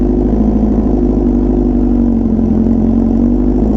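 A Honda Fireblade RRR SP superbike with a full titanium exhaust idles steadily and close by, a loud even low rumble with a faint pulsing rhythm and no talk.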